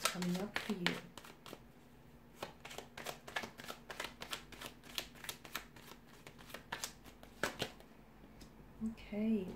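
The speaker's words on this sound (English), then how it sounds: "So I'm going to give the cards a shuffle and see what's coming up for you." Tarot cards are shuffled in quick, papery riffles and flicks close by, a steady run of crisp snaps through the whole stretch, with faint background hum.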